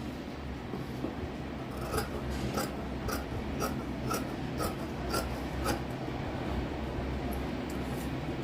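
Scissors cut blouse fabric along drawn marking lines, giving a quiet, steady rasping snip with faint repeated clicks over several seconds. No one speaks.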